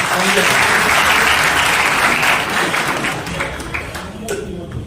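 Loud, dense applause from an audience at a Bahujan community gathering in Aligarh, a steady wash of many hands clapping that holds strong and tapers slightly toward the end, with voices mixed faintly underneath.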